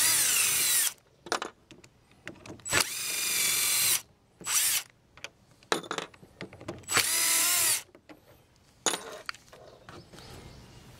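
A Milwaukee impact driver backing out screws from a GRM520 52cc brush cutter handle whirs in repeated short bursts with rapid hammering rattles, separated by pauses and small clicks of handling.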